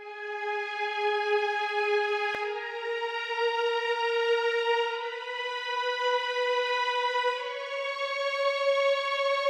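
Sustained string chords for a West Coast-style beat play as long whole notes, a rich stack of held tones that shifts gently upward in steps. The playing is steady and fairly loud, with no voices.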